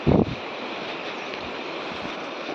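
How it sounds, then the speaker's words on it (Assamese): River water rushes among large boulders during rain, a steady broadband wash of noise that holds constant throughout, with a short low thump at the very start. "বৰষুণ দি আছে যে পূৰা নদীৰ চাউণ্ড শুনক"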